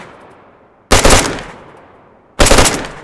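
An AUG rifle fires in burst mode in the DayZ video game, two loud, sharp bursts about a second and a half apart, each trailing off in a decaying echo, with no voices.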